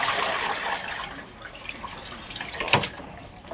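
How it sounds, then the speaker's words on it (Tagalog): Tap water runs and splashes into a cooking pot, a steady broadband pour that trails off midway, with a brief louder splash and a few drips near the end. "Lagyan natin tubig."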